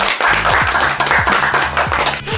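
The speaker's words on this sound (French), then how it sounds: "on peut encore une fois vous applaudir" A studio audience applauds the contestants of a shopping competition show, a dense burst of clapping with some rhythmic emphasis, loud and close, lasting a couple of seconds.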